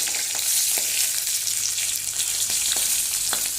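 Ginger and green chillies frying in hot oil in a kadai after a tempering of chilli and curry leaves, a dense continuous sizzle with faint scattered stirring taps, no voices.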